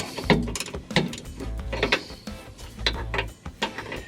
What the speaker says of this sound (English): Ratchet may not fit in there.